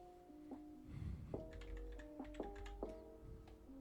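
Typing on a new computer keyboard, a quick series of light clicks and taps in an irregular rhythm, faint and close, over a quiet room.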